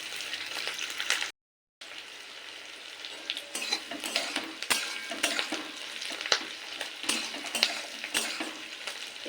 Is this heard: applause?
no